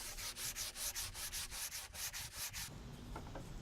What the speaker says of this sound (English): I hit it with some fine grit sandpaper just to get a nice smooth finish.